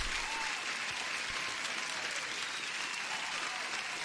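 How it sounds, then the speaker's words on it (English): A steady wash of applause played as a sound effect on a live futures day-trading stream, dense and even from start to finish, with no voices over it. "Let me give you an applause too."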